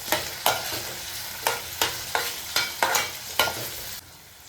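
Ginger-garlic paste is stirred into vegetables in a hot pan: about eight rhythmic spatula scrapes land roughly every half second over a low sizzle, close and fairly loud, then the stirring stops and only a faint sizzle remains; no talking.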